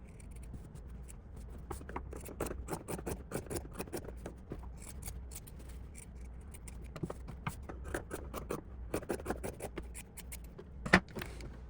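Scissors cutting a fabric seam allowance while making a tote bag, many short crisp snips in irregular bursts close by, with a sharper click near the end.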